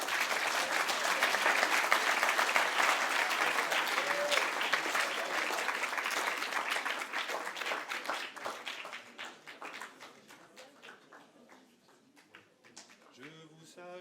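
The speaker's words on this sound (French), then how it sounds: "Vous pouvez encore applaudir Don Léonard." A French audience applauds after a talk on couple, passion and engagement, the dense clapping loud and sustained at first, then thinning and fading toward the end as a voice begins to speak.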